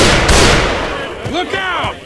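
A sniper rifle fires in the game Left 4 Dead 2, one loud, close crack with a booming, fading tail, followed by brief in-game voice sounds.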